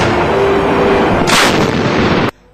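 A Bofors artillery gun firing, heard as a loud, sustained roaring blast with a burst of hissing noise that stops abruptly into near-silence.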